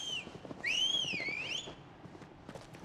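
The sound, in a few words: whistling in the video game Final Fantasy 16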